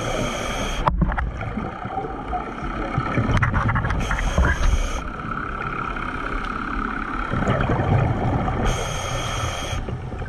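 Boat engine drones steadily on open water during a crab pot recovery, with wind buffeting the microphone and sloshing water throughout, loud and close.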